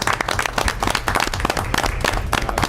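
Applause for a group of young players at a Mount Olive Township meeting, dense steady clapping from a room of people that carries loudly through the whole stretch.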